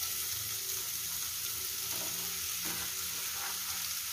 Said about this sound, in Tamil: அதே நெய்யில் நான் இப்போ இந்த கேரட்டு ஃபுல்லாக போட்டுக்க போகிறேன்